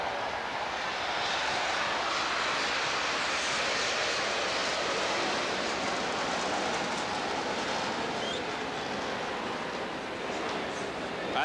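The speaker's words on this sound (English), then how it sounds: "I think that plane bought a ticket." A propeller or jet airplane passing over an outdoor baseball stadium during a 1989 Pirates–Mets game, a sustained loud broad engine roar filling the whole stretch, with faint crowd and voices beneath.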